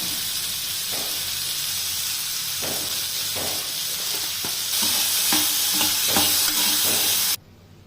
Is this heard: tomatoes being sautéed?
yes